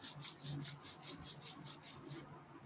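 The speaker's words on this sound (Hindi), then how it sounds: "दोनों हाथों को रब करेंगे।" Two hands rub briskly together, a close, soft swishing friction in about ten quick, even back-and-forth strokes before stopping.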